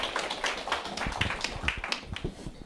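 Audience at a Korean business gathering applauds as the next speaker is welcomed, a few distinct, fairly close claps standing out over a thinner spread of clapping from the crowd.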